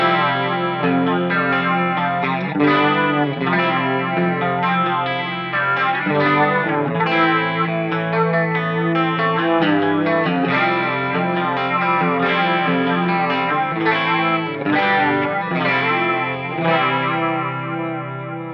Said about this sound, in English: let's get some like flangery sounds